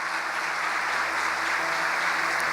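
A church congregation applauds, a dense, steady wash of many hands clapping together, loud and sustained for the whole moment with no talking over it.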